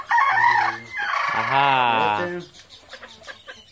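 A rooster crows once, loud and close, on a farm with purebred fighting-breed chickens and a hen, with clucking before and after and a person briefly speaking over it.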